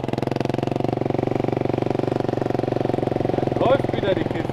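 A Bimobil camper's engine runs at a steady, rhythmic idle, close and moderately loud, with a brief higher clatter near the end and speech faintly mixed in.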